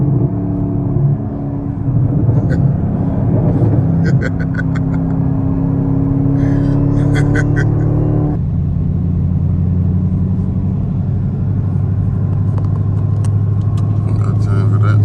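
A Chevrolet Camaro ZL1 driving at speed on a highway, with a loud, steady engine and supercharger drone under strong road and wind noise. The tone rises and then drops sharply partway through, and voices talk over it.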